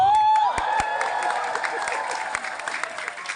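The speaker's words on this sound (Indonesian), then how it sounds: "Lu ngapa tepuk tangan?" An audience at a Maulid Nabi religious lecture breaks into steady applause, a moderate wash of many hands clapping at some distance, with a few crowd voices underneath.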